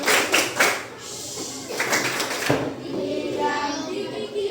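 Children in an Indonesian classroom do a rhythmic clapping game, several bursts of group clapping in a patterned rhythm, fairly close and loud, with a few young voices mixed in.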